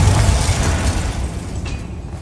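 A Bombarda spell blast in a Harry Potter video game lets out a heavy, rumbling boom that fades steadily over a couple of seconds, with a faint clink near the end.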